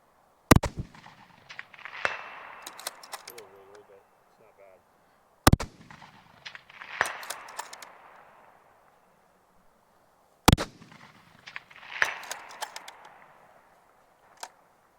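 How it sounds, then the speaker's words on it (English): Three sharp rifle shots ring out several seconds apart at an outdoor precision rifle match, each a loud close crack followed by a rolling echo and a faint distant impact on a target 403 yards away. "Ryan's going to take a shot here at 403 yards at the target"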